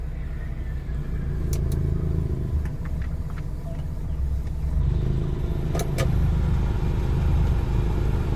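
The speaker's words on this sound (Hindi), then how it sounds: "गाड़ी स्टार्ट हुई, न्यूट्रल है, एसी बंद है ना, एसी ऑन करता हूँ" A Maruti 800 car engine idles in neutral with its AC switched on, a steady low rumble close by with a rougher, slightly louder hum partway through, broken by a few faint clicks.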